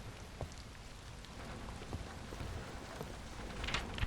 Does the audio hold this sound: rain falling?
yes